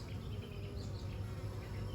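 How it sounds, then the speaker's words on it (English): A honeybee swarm hums inside a hive box, a faint, steady, low drone of many wings that continues without a break. "Right here you can see how many bees are in there."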